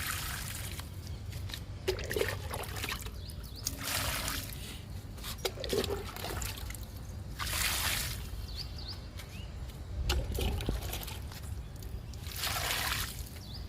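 Water trickles and pours onto bean plants in tubs in several short bursts, fairly close, with a steady background hiss and no talking.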